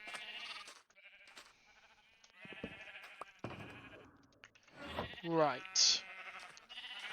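Sheep bleat in Minecraft, a short wavering baa rising among game sounds while someone talks nearby.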